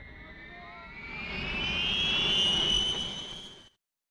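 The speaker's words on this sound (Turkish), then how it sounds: "İlyush'un 76 uçağını 100'den fazla ülke kullanıyor." An Ilyushin Il-76 firefighting aircraft passes with its jet engines roaring, a loud rising whine and broad rushing noise that swell to a peak before cutting off abruptly, with no talk.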